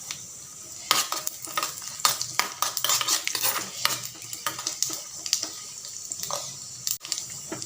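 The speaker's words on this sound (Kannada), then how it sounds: "ಗೋಡಂಬಿಯನ್ನು ನೋಡಿ ಬ್ರೌನ್ ಕಲರ್ ಆಗೋವರೆಗೆ ನಾವು ಫ್ರೈ ಮಾಡ್ಕೊಳ್ಬೇಕು." Cashews and poppy seeds fry in a pan with a light sizzle while a spoon scrapes and clinks against the metal in irregular close strokes.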